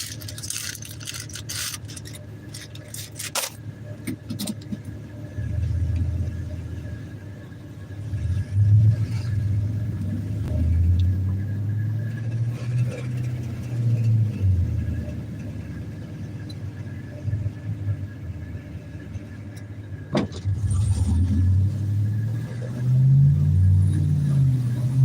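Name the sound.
truck engine running rough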